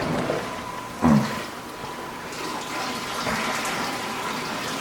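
Water surging through a large 8-foot reef aquarium, a sudden gush about a second in followed by a steady bubbling, rushing wash that swells slightly toward the end, close and fairly loud.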